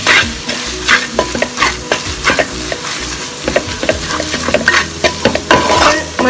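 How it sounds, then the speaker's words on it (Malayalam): Squid masala spices sizzle in oil over low heat while a spoon scrapes and stirs the pan, a close, loud frying hiss broken by repeated clattering strokes, with no talk. "ഇനി ഒന്ന് തീ കുറച്ച് വെച്ചിട്ട് ചെറുതായിട്ടൊന്ന് എണ്ണ തെളിഞ്ഞ് വരുന്നവരെ ഈ മസാലകളൊക്കെ ഒന്ന് ചൂടാക്കി എടുക്കാം."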